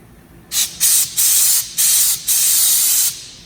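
Compressed air blasts through a car line during a 700whp engine build, five loud hissing bursts in close succession with brief gaps between them, alone without talk.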